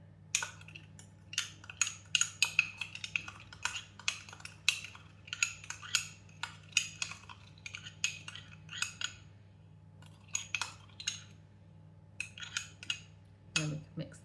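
A spoon clinks and scrapes rhythmically against a bowl while stirring a corn flour slurry for a fruity pudding, a run of quick, close metallic taps with short pauses, no voices.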